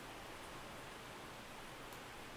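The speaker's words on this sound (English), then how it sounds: "there's the rain." Steady rain falls outside an open window, a soft continuous hiss of even broadband patter, faint and unbroken throughout.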